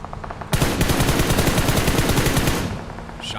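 Automatic gunfire in the PUBG Mobile game on the Miramar map: a loud, rapid burst of shots fired in quick succession for about two seconds, then a short quieter tail.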